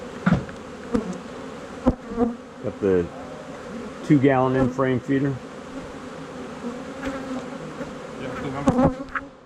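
Honey bees buzz steadily around an open hive in a commercial bee yard where nucs are raised, a constant drone with brief louder passes while a person talks over it about a 2-gallon in-frame feeder.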